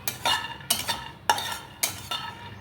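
Peanuts dry-roasting in a pan while being stirred, a series of about five crisp rattling scrapes and clinks of nuts and spoon against metal, close and distinct, with no voices.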